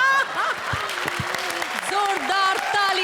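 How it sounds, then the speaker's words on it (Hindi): A studio audience on the Comedy Circus comedy show claps in a short burst of applause, with a voice talking over it. "जोरदार तालियां"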